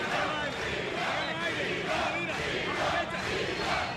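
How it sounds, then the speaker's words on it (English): A boxing crowd roars and chants in rhythmic surges for Ivan Calderon during his 2010 bout with Giovani Segura, loud and continuous with a voice talking over it. "the crowd picking him up here"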